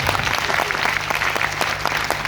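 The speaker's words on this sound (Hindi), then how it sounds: "तो ताली बजा लीजिए पहले" Close, dense clapping comes from an audience at a sales leadership training session. It stays steady and loud throughout, with only faint crowd murmur.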